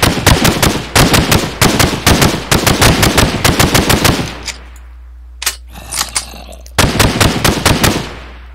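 Rapid automatic bursts from a G36C rifle in Minecraft Flan's Mod, loud sharp close shots in quick strings, a short pause with a couple of isolated shots, then another rapid burst.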